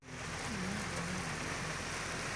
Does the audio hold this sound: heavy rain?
yes